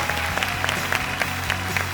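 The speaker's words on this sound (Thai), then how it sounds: "ขอเสียงปรบมือดัง ๆนะครับ" An audience claps steadily and fairly loudly after a children's singing battle on a televised talent show in Thailand, with continuous applause and no talk.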